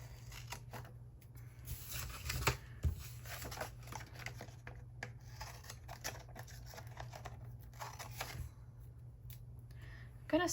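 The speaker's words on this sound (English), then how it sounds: "I'm gonna go ahead and trim these up" Scissors trimming paper flower stickers, a run of close, crisp snips and paper rustles at an irregular pace over a faint steady background hum.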